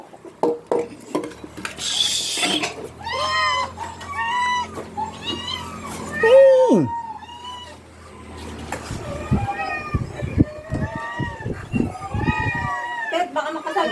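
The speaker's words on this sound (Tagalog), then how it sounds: "May maliliit na kuting." Small kittens meowing repeatedly in high, thin cries around a home at mealtime, close by, mixed with dish and cutlery clatter and a person talking over them.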